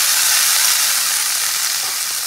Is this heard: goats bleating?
no